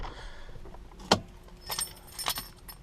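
A short metallic jingle of Toyota 4Runner keys and remotes rattling once, then a couple of softer clinks, close by in a quiet car interior.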